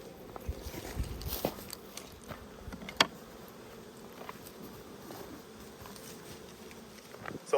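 Honey bees from an open backyard hive in winter preparation drone in a steady close buzz, with small thuds and handling noises of hive frames scattered throughout.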